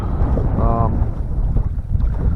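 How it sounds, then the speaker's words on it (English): Wind blows across a small fishing boat out on the water, a loud, steady rushing buffet against the microphone that continues throughout with a brief tonal hum in the middle. "The wind is blowing."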